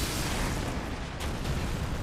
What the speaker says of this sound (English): he might push you around or shoot lava behind him like this